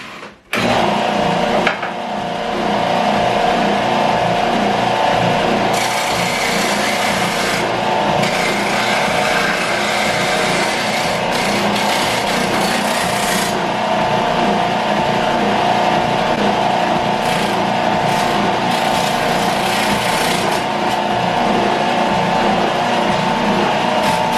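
A Ridgid oscillating belt sander rounds over a wood corner, giving a loud, close, continuous abrasive rasping hum that runs steadily for over twenty seconds, with brief harsher scraping surges as the workpiece is pressed in, and no voices.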